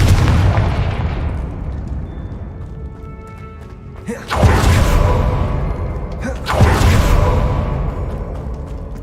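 A spell blast in the Hogwarts Legacy video game lands as two heavy booming explosions with whooshing bursts, rising sharply out of a rumbling low background and ringing off loudly each time.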